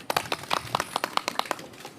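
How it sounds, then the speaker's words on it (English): A small crowd gives each other a short round of applause outdoors at a ribbon cutting for a 106-year-old city park, with sparse, uneven hand claps that come up close and clear for about two seconds. "give each other a round of applause"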